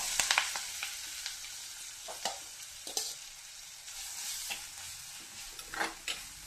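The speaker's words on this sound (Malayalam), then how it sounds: "അപ്പോൾ കടുക് പൊട്ടിക്കഴിഞ്ഞപ്പോൾ ഞാൻ ഈ അരപ്പങ്ങ ഇട്ട് കൊടുക്കും." Ground spice paste goes into hot oil with popped mustard seeds in a clay pot and fries for a fish peera curry. A soft, steady sizzle is broken by several sharp stirring scrapes and clacks.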